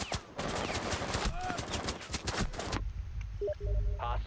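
Rapid burst-fire gunshots crack repeatedly in Rainbow Six Siege for a few seconds, then stop abruptly, followed by quieter game sounds.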